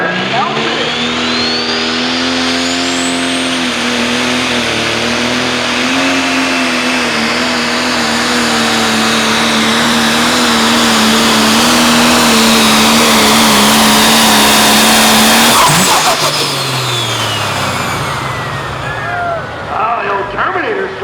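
A pro stock pulling tractor, the T8 Tomcat with a new motor, roars loud and steady at a tractor pull, its engine pitch climbing and holding for about fifteen seconds before cutting out, with a voice over it.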